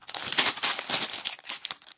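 A small plastic bag of construction-set parts is torn open, giving a quick run of sharp crinkling and crackling bursts, close and alone.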